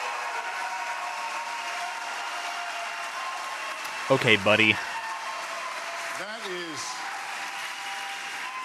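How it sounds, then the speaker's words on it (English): Applause from the audience at a Republican presidential debate holds as a steady crowd roar, with someone briefly speaking over it. "I'll ask you to just hold the applause"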